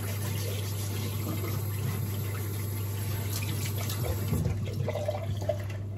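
Tap water runs steadily while a face is wetted before shaving, a continuous close splashing wash with a low steady hum beneath and a few brighter splashes toward the end.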